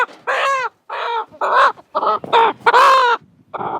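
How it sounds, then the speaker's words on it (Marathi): A large rooster gives a close, loud run of harsh clucks and strained crowing calls in short bursts separated by brief pauses. "हा हा कोंबडा आहे का चांगला मोठा दाजीसाठी?"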